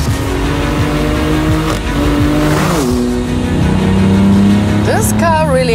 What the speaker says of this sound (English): almost going rally style through a corner on Sport Plus